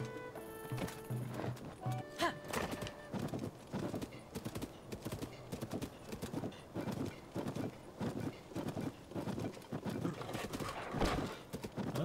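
Rhythmic clip-clop of horse hooves at a steady gallop in The Legend of Zelda: Tears of the Kingdom, close and fairly loud, with game music and effects layered underneath.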